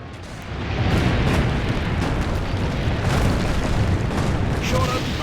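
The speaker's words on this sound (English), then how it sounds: "Load the cannon. Aim for the cannon!" Heavy cannon fire in the Assassin's Creed Brotherhood video game: a continuous loud rumble of booms and blasts that builds in the first second and rolls on densely throughout, with voices faintly under it.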